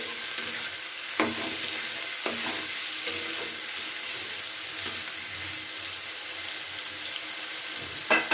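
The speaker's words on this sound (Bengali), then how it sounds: "বেগুনটাকে ভাজতে দিয়ে দিলাম" Eggplant slices frying in hot oil in a home kitchen pan, a steady close sizzle broken by occasional sharp clinks and scrapes of stirring.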